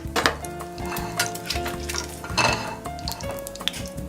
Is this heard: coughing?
no